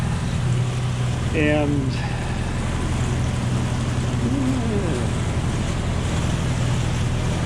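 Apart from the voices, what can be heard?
sailboat motor sailing with jib up on Chesapeake Bay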